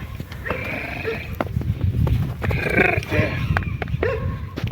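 A five-year-old heavy draft mare neighs and snorts several times close by, high whinnies rising over low breathing, with some hoof shuffling and a brief voice in the background.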